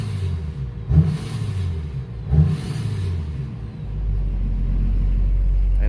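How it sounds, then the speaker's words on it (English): Duramax diesel engine swapped into a Cadillac Escalade, idling with a low rumble and revved twice in quick deep surges before settling back to a steady idle. "You can kind of hear it rev up."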